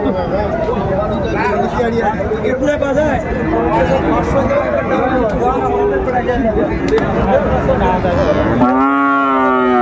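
A busy livestock market crowd chatters for several seconds, then a Friesian or crossbred cow lets out one long, loud moo close by near the end.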